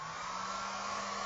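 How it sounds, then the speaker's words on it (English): A hair dryer blows with a steady, loud whirring hum and airy rush, unchanging throughout. "this little hairdryer works perfectly"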